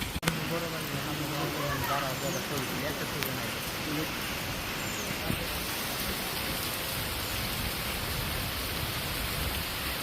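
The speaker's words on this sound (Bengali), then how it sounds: "অনেক জোরে বৃষ্টি নামছে" Dense, steady downpour of heavy rain hisses without pause, with faint voices and a few brief knocks underneath.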